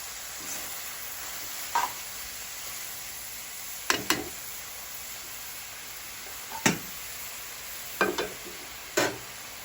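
Goat stomach fries in a pan for bhutan, with a constant soft sizzle. Sharp stirring scrapes and clacks from a spatula break in every second or two, close and clear, and no one talks.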